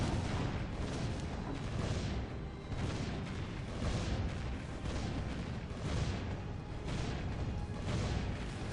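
Cannon towers in Defense Grid fire continuously, producing a dense stream of heavy booms roughly twice a second over a thick, rumbling bed of in-game noise, with no talking.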